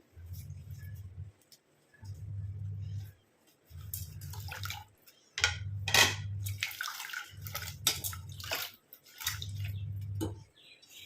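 Water splashes and drips as flowers are swished around in a basin, with a steady low hum pulsing on and off in regular bursts.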